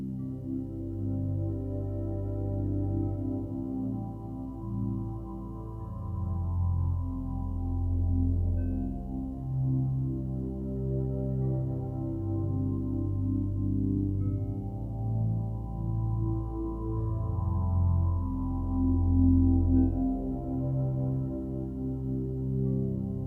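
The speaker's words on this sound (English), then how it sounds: "Okay, yeah, so that synth pad sounds pretty good to me." A warm, sustained synth pad soaked in reverb swells slowly, low and smooth chords blending into a continuous wash with no voices.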